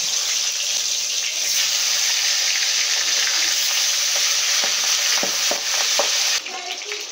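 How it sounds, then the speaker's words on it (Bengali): The rest of a batch of pabda fish sizzling in hot oil: a loud, continuous frying hiss with a few sharp pops near the end, then a sudden drop in level, heard close with no voices. "একইভাবে বাকি মাছগুলো ভেজে নেব।"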